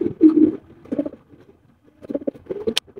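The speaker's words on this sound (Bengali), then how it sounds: "এখানে রয়েছে এত সুন্দর এক জোড়া মাশাআল্লাহ কবুতর" A pair of Lahori pigeons coo close by in several soft, throaty low bursts with short pauses between them, and nothing else is heard.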